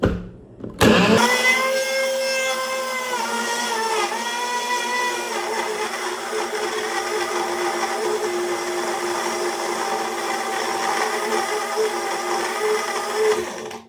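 A blender runs steadily, whirring through a peanut butter banana smoothie; it whines up loudly after a brief start and keeps a constant motor drone with shifting pitch bands throughout, no talking.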